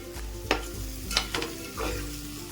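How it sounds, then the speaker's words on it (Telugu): Spiced curry mixture with chili powder and coriander is stirred in a pan, giving a few close scraping strokes over a low sizzle with no talking. "వేసుకొని మనం బాగా కలుపుకుందాం"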